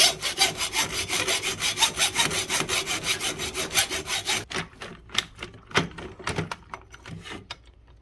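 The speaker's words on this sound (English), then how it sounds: "we're gonna finish it off with a hacksaw" Steady back-and-forth hacksaw strokes cutting open a boat trailer jack's metal tube, fast and regular for about four seconds, then a few slower, scattered strokes and scrapes with quiet gaps between.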